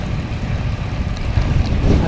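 Strong gusty wind buffeting a cyclist riding along a road in Kingwood, a loud, continuous low roar and rumble of wind against the microphone that swells in surges, with no voices.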